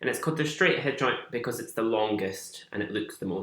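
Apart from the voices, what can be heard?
No distinct noise like a dog, phone or traffic.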